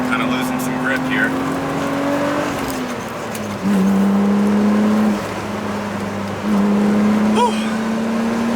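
A BMW E36 M3 is driven hard, the engine droning loud and close with pitch climbing and dropping through gear changes and bursts of higher revs, with some background noise under it.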